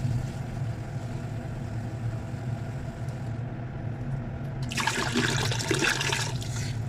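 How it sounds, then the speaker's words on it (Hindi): Water poured into a pot of lassi while making kadhi pakora; a low background hum runs throughout, then a bright splashing pour starts about two-thirds in and continues to the end, with no talking. "इसको मुसलसल अभी पानी भी थोड़ा डालना पड़ेगा इसके साथ।"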